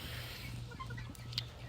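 Chickens cluck softly in a flock of young birds living alongside older hens, the calls faint and scattered over a steady low background hum.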